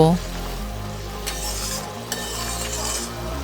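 Katla fish curry with slit green chillies bubbles over a high gas flame while a spoon stirs it, a steady close simmering hiss with a few light clinks against the pot.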